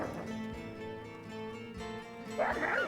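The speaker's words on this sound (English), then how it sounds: "Got lots of growling going on" Wolves in the video game WolfQuest growl and whimper near a den, a quiet, steady low growling that continues throughout, with a brighter yelp toward the end.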